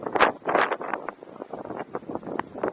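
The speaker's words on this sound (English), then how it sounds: "It's pretty windy up here" Gusty wind on a beach rushes and buffets across the microphone in uneven bursts, moderately loud and close.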